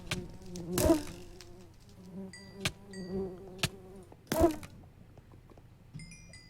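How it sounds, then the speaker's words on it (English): Bees buzz in modded Minecraft, their short droning hums coming and going among sharp clicks and thuds from the game, with no talking. "Careful of the bees."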